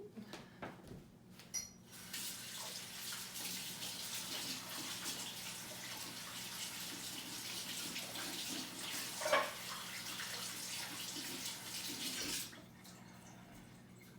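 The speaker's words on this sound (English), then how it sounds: "I'm gonna wash my hands very quickly." Hands being washed under a running tap after acrylic paint pouring, a steady hiss of flowing water with splashing and rubbing for about ten seconds, starting and stopping abruptly, quiet and close.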